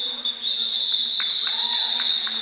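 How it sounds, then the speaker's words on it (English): A roller derby referee's whistle starts the jam, a loud sustained shrill blast backed by further whistles and arena crowd noise, with brief claps and a commentator's voice underneath. "And the whistles blow, the jam goes."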